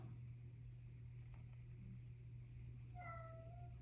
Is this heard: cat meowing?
yes